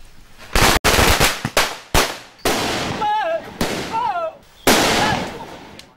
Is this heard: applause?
no